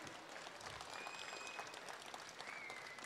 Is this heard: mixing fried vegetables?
no